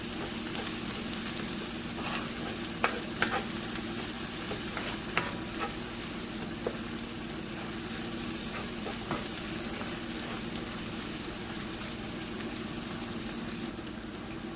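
Tomato paste fries in a pan for chicken goulash, giving a steady low sizzle and bubbling throughout, with occasional soft scrapes and taps of a spoon stirring, close and even with no talk.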